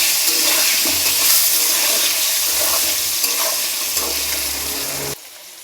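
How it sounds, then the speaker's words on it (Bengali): Jackfruit seeds and potatoes fry in a pan, giving a steady broadband sizzle with faint stirring scrapes and clinks. The sizzle stops abruptly just before the end, leaving a quieter hiss. "এই যে কাঁঠালের আটি দিয়ে আলু দিয়ে ভেজে নিচ্ছি"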